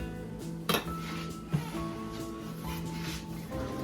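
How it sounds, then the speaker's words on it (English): Pizza soup is stirred in a pot, with two sharp utensil clinks against the metal over a low, steady background hum. Quiet and close. "Give that another stir."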